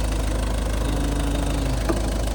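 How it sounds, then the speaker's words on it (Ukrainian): A Ford Focus III 1.6 TDCi diesel engine idles steadily and fairly quietly, a constant low rumble with a faint rhythmic knock running through it. "Двигунчик працює тихенько"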